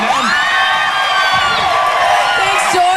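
A dense concert audience packed into the MuchMusic studio in Toronto cheers and screams loudly, with high shrieks and whoops layered over a continuous roar, close and sustained throughout.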